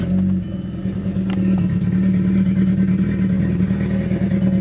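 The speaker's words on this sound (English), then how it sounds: "I also hate that exhaust." A crash-damaged Audi S3 idles and revs through its exhaust, a steady low droning rumble with a brief rise in pitch near the start, close and fairly loud, with no talk.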